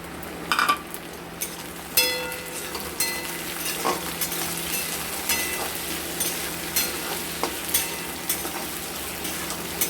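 Capsicum being stirred into browned onions frying in a pan for chicken kosha, a steady soft sizzle under regular scraping and clinking strokes of a spoon against the pan, with no talking.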